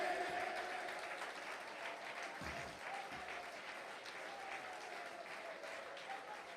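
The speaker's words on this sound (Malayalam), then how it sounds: "കൈയടിക്കുന്ന നേരെ കൈയടിക്ക്." A church congregation at a Malayalam Christian meeting claps steadily as a continuous, fairly faint wash of applause that holds for the whole stretch without a break.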